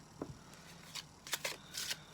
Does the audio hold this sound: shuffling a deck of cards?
yes